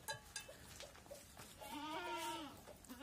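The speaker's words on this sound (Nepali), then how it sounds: "खैनी खाएर हेर यो बाख्रालाई" A goat in rural hill country in Nepal lets out a few short bleats, then one long, wavering bleat up close, with light background noise and no speech.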